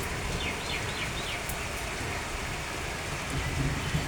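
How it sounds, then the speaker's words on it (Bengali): Steady morning rain falls in a soft, even hiss with a few faint chirps in the background and no speech. "দেখো বৃষ্টিটা কি সুন্দর হচ্ছে দেখো"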